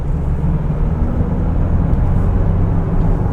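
Land Rover Discovery Sport HSE, the 147 horsepower model, accelerating hard from third gear: a steady, loud low engine drone and road rumble fills the whole stretch without a break, no voices over it.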